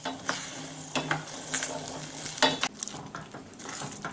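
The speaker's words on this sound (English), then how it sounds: "we're going to keep this cranberry sauce going for 10 minutes on a gentle boil, stirring occasionally" Cranberry sauce on a gentle boil in a pot, stirred: soft bubbling sizzle with intermittent scraping and swishing strokes of a spoon, close and moderately quiet.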